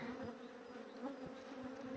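Calm honeybees buzz over a brood frame full of larvae and eggs, a soft continuous hum with faint wingbeat texture, close but quiet and without voices.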